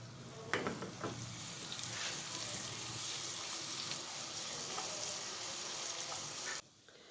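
Cumin and crushed garlic sizzle and crackle steadily in hot oil, close up, with a few clinks of stirring before the sound cuts off near the end.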